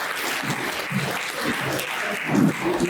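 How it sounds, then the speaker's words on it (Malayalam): Audience applause at a women's day celebration after a presentation, a moderate, even patter of clapping with a few faint murmurs underneath, swelling slightly toward the end. "നല്ലൊരു കൈയടിയാവട്ടെ"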